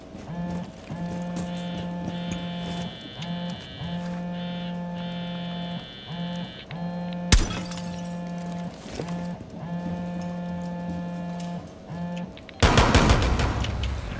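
Gunfire in Rainbow Six Siege on the Kafe map in a team deathmatch hostage match: a single sharp, loud shot midway, then a heavier burst of fire at the end, over a steady droning hum.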